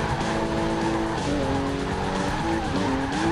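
Loud, continuous tire squeal from a car drifting at high speed in Ridge Racer Unbounded, rising and falling in pitch over a steady engine roar, with no talking.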